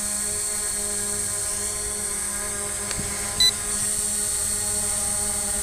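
A JJRC X17 toy drone hovers with its propellers giving a steady, high-pitched whine and a constant buzzing drone, joined by a short click partway through.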